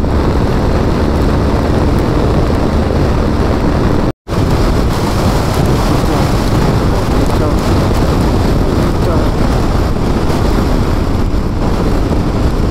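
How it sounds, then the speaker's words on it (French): Heavy rain pours during a sandstorm in Algeria, a dense, steady roaring hiss that stays loud and close throughout, broken only by a split-second dropout, with no talking. "Et vous voyez, maintenant il pleut."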